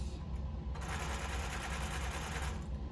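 A zigzag sewing machine runs a back stitch, its fast, even mechanical chatter starting abruptly and continuing steady and close for a couple of seconds.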